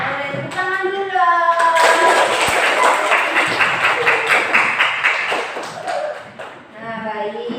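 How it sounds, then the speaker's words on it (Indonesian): A class of schoolchildren in an Indonesian classroom claps their hands together in a sustained, dense burst that fades toward the end, while children's voices and a teacher's speech run over it. "Boleh tepuk tangan dulu."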